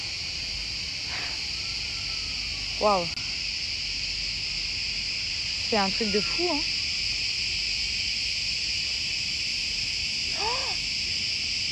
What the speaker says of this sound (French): Oh, les cigales.